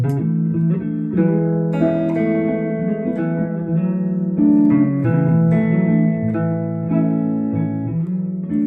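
Chord notes played one at a time as arpeggios, each pitch sounding separately in a steady flowing pattern that changes shape as the chords move, clear and close with no talking.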